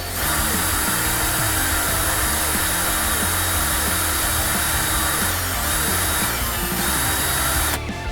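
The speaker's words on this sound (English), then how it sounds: "Just drilling the hole." A power drill bores a hole into a plastic 1:350 scale model starship hull, a loud, steady motor whine running continuously at close range before cutting off at the end.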